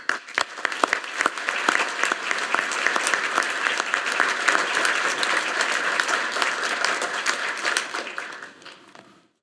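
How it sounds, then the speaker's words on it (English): Sustained applause from a large audience saluting the November 2024 graduates at the United States Naval War College, a dense steady roar of many hands lasting several seconds before tapering off. "Please join me in saluting with an applause the 2024 November graduates of the United States Naval War College."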